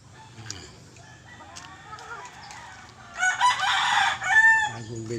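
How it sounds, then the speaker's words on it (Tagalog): Roosters and chickens at a newly set-up gamefowl farm cluck softly, then a rooster crows loudly and close in the second half, with faint background clucking continuing. "Ito yung nakalagay na yung mga manok na galing Manila."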